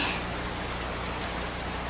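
Steady, dense rain pours down continuously, a loud even hiss of drops hitting surfaces, with no voices.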